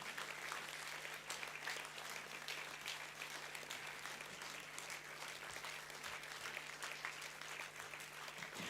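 Steady, continuous applause fills a university convocation hall as an award recipient is honoured, a dense even wash of clapping over a low constant hum.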